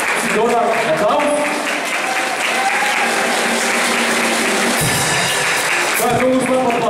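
Loud applause from a school audience for a classmate, steady clapping throughout with voices and a musical tone mixed in over the top.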